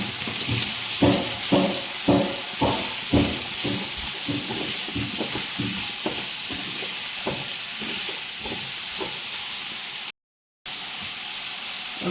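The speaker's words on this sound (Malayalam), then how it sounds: "ഫ്രോസൺ ഗ്രീൻ പീസ് നമുക്കിതുപോലൊന്ന് വഴറ്റിയെടുക്കണം" Cauliflower and frozen green peas sautéing in a pan, a constant hissing sizzle with a series of soft rhythmic stirring taps early on that thin out, and a brief dropout near the end.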